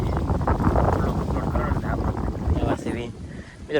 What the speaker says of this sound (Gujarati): પવન એટલો છે એટલે થોડુંક તાણે બોલવું પડે મિત્રો